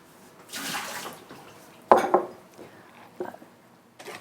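Water splashes out in a short pour as the soaking water is tipped off rinsed seaweed in a kitchen, followed by a few clunks and knocks of a bowl or pan.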